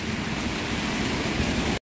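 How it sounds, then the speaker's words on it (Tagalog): Falling hail pelts down outdoors as a steady, dense, loud hiss of ice pellets striking surfaces, continuous for nearly two seconds before stopping abruptly. "It's raining a snow. Raining ice."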